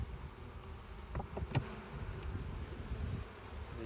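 Honey bees drone in a low, continuous buzz from an opened beehive frame holding honey and pollen, with a few brief clicks and knocks over the hum.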